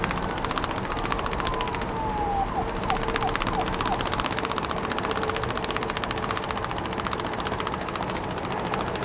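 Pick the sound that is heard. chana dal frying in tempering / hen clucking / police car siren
police car siren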